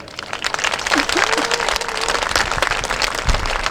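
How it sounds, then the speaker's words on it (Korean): An audience at a provincial government ceremony applauds the governor, a steady wash of clapping that rises after the first moments and holds for several seconds, with a faint voice briefly over it. "여러분들 갈채의 박수를 한번 보내주십시오"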